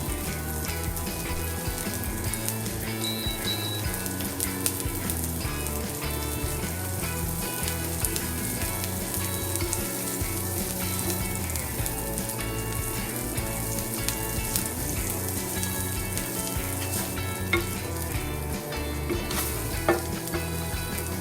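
Bean burgers fry in oil in a pan with a dense, continuous sizzle and spatter that holds even and fairly loud from start to finish, with no voices.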